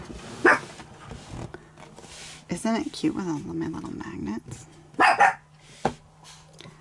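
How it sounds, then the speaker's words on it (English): Excited pet dogs bark and yip in a home in several sharp bursts, some near and loud, mixed in and around a woman's ongoing speech. "My dogs are excited about this plan."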